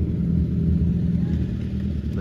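A BMW S1000 RR motorcycle idles close by with a steady, loud, low engine rumble that holds throughout, and no voices break in.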